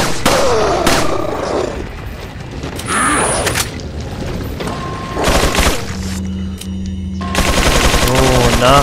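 Gunfire and mechanical weapon clatter from the video game Resident Evil 4, with bursts of shots, clicks and ratcheting over a busy game soundtrack and effects, loud and close throughout.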